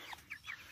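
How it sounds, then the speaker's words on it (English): A few soft, faint chicken clucks in a brief moment, quiet and close-sounding with no talking. "there's a couple big chickens back in there"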